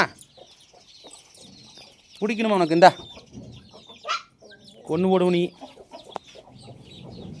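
A native chicken chick being caught gives two loud, shrill squawks close by, separated by a short gap, while people talk over it.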